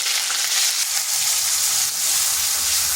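Ground onion paste frying in a pan for a prawn malai curry, with a loud, steady, close sizzle throughout.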